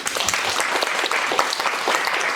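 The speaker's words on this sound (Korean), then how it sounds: "그럼 우리 큰 박수로" An audience applauds at a demonstration session, giving a full, continuous round of clapping from many hands at a steady level from start to finish.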